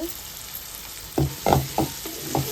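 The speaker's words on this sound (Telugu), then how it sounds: "ఆయిల్లో ఇప్పుడు మనం మిక్సీ పట్టుకున్న టమాటా పేస్ట్ వేసుకుందాము" Coarsely ground tomato paste fries in oil with onions, a light sizzle under a run of four or five thick, bubbly stirring splutters in quick succession.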